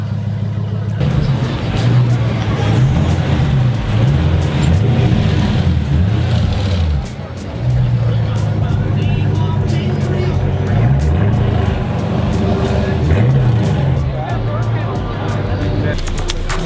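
Hellcat V8 swapped into a classic Mopar car, a deep loud engine rumble idling and revving with rising and falling pitch throughout, people talking over it.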